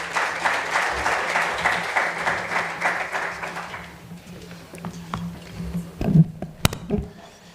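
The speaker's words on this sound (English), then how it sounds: "May we please give a warm round of applause for Mr. Nkosi." Audience applause at a traditional leadership gathering: steady clapping from a crowd for about four seconds, then fading into scattered claps and room noise with a few louder taps near the end.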